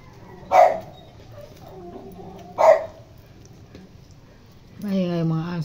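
Two short, sharp dog barks spaced a couple of seconds apart, moderately close, followed by a person starting to speak.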